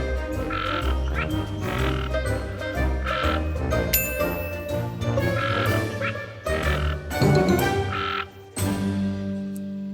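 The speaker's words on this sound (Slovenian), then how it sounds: "to je krastača." A toad croaks loudly and close by in a run of regular, rhythmic bursts with short pauses between them, heard alone with no talking.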